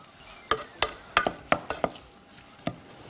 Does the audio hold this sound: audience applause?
no